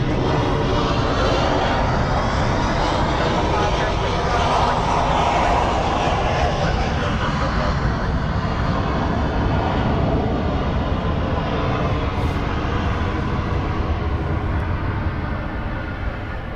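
An Air New Zealand airliner spooling up its engines for takeoff on runway 27 at Melbourne Airport, a loud, sustained jet roar building and holding from a moderate distance.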